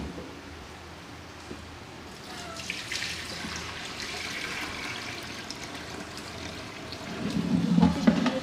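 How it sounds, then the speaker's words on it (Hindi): Water draining off soaked rice while making beef pulao, a soft steady trickle and splash that grows fuller and louder toward the end, heard alone without talk. "ये चावल मैंने भिगो के रखे थे। अब हम इसमें से पानी निकाल लेते हैं।"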